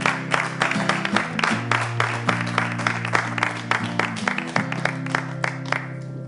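Studio audience applauding on a French television show, dense rhythmic clapping close and loud over a sustained musical backing, with no speech.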